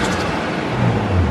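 A Nissan Skyline R34 with a turbocharged RB25DE engine roars steadily at close range, loud and continuous, with a slight rise in low rumble toward the end.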